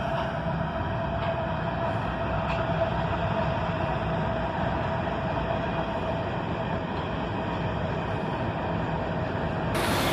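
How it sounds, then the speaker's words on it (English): A Norfolk Southern freight train led by a three-locomotive lash-up rolls past, giving a steady, loud, continuous rumble and roar of engines and wheels without break, with no voices. "there was a Norfolk Southern train coming right up behind him"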